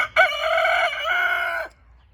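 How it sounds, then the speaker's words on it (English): A rooster crows once, loud and close, a single drawn-out call lasting about a second and a half before falling quiet. "you hear that bird?"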